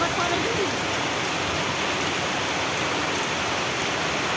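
Steady heavy rain pours over a Bengali village, a dense continuous hiss that stays loud and even throughout, with faint voices underneath.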